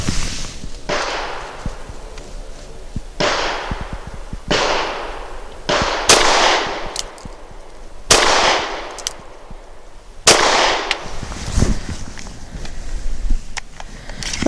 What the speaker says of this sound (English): next we have Norma's monolithic hollow point in 108 grain